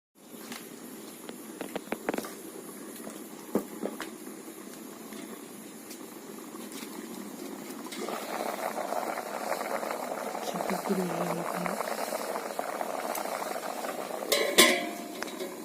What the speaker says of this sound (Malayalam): കഴുകിയിട്ട് കുറച്ച് വെള്ളം ഒഴിച്ച് പുഴുങ്ങിയെടുക്കുന്നു.